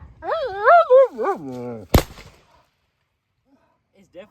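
A single loud, sharp shot cracks from a cap and ball revolver, ringing out briefly before quiet, preceded by a person speaking.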